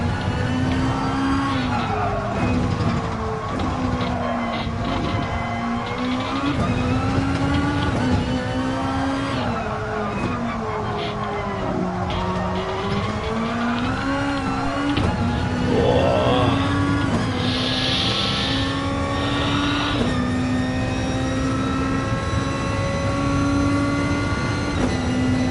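A Gr2 race car laps Fuji in Gran Turismo, its engine droning loud and steady through shifting revs, with brief tire squeal partway through and a faint voice now and then under the engine.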